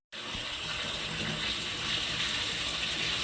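Cold water pours steadily from a kitchen tap, a constant hissing gush that starts abruptly and runs without a break.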